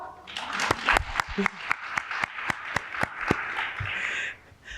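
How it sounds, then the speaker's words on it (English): Applause from a lecture audience at a community center, a steady wash of clapping with distinct sharp claps standing out through it, fading at the end. "you can applaud"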